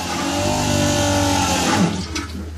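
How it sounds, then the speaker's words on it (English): A brand-new push-button electric macerator toilet on a boat runs with a loud, steady motor whir and rushing water, close by, tapering into gurgles at the end. "it's got a push button here, electric macerator"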